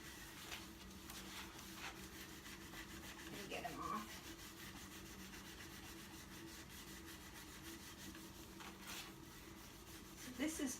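Gummy old finish being scrubbed off a wooden table top with CitriStrip stripper: steady, close rubbing and scraping strokes run throughout with a slightly louder burst of scrubbing midway, over a constant low hum.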